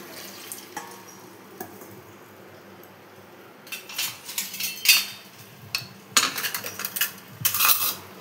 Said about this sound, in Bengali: তো আমি খানিকটা পরিমাণ এখানে জল দিয়ে দেবো